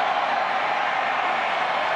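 A stadium crowd at a 2018 college football game between Utah State and Boise State roars steadily after a long 44-yard pass completion, a dense, loud, continuous cheer with no pauses.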